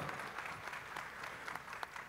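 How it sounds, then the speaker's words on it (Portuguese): Warm audience applause at a municipal public education event, honoring a professor: a steady, dense wash of many hands clapping throughout, fairly close and even in loudness. "Os aplausos mais calorosos, gente, para o nosso professor André Lázaro"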